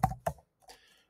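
Keys on a computer keyboard clatter in two quick close taps followed by a softer, lighter patter of typing, heard alone at close range during an online account registration.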